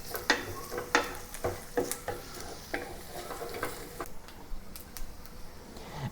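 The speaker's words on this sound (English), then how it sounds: "And saute the onions until soft and starts to become translucent." Onions sauté in a pan, with close scraping stir strokes and clicks over a soft steady sizzle that settles quieter toward the end.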